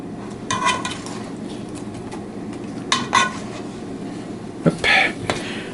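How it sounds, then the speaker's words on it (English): Slotted spoon stirring food through sauce in a metal pot, a few separate clanking scrapes against the pot's sides over a low background hum. "we're going to mix them up in the sauce so we can make sure they all get covered"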